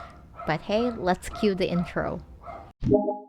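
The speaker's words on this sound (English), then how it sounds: "Sorry for the dogs in the background" Dogs bark and yip in the background beneath a person talking close to the microphone, partly masked by the voice.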